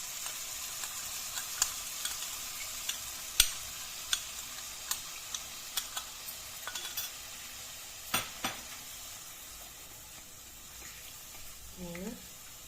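Vegetable bhuna khichuri with soaked spice paste being sautéed in a pan: close scraping and stirring knocks over a soft sizzle, with a few sharper clanks of the spoon against the pan and a brief voice near the end.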